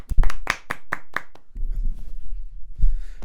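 A handful of sharp hand claps ring out in a quick uneven burst near the mic, a short small round of applause that stops abruptly before low room noise and murmuring take over.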